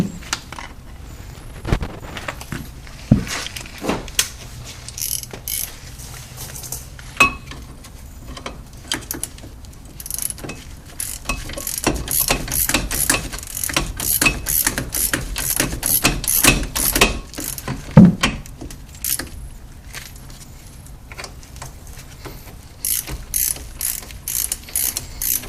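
A hand ratchet tightens bolts on the front brakes of a Pontiac Grand Prix, giving repeated close clicking runs in uneven bursts, busiest through the middle stretch, with no talking.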